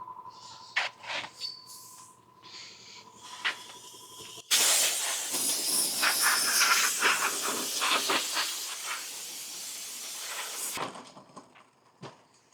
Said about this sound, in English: Gotta turn the compressor back on.